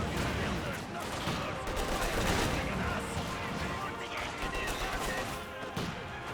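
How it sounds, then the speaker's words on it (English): Continuous dense gunfire from guard infantry in a Company of Heroes 2 multiplayer battle, overlapping rifle and machine-gun bursts forming a steady loud wash of battle noise throughout. "Still got the guards firing away"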